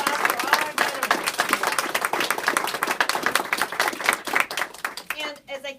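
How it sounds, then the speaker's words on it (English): A crowd at a veterans event claps in sustained, dense applause that stays loud and steady before tapering off near the end, with a voice briefly audible as it fades. "let's have a round of applause for all our veterans"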